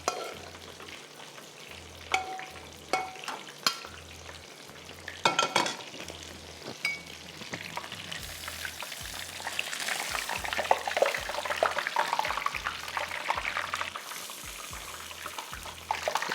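Chicken katsu deep frying in a kitchen: a steady oil sizzle and bubbling with scattered clinks and clatters, moderately loud and continuous, with no speech.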